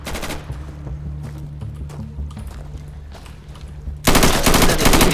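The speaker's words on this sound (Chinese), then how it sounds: "而且这里面的射击的音效真的是很酷" Rapid gunfire from the realistic military shooter game Insurgency crackles in repeated shots over a low steady hum, then a loud dense burst of noise takes over near the end.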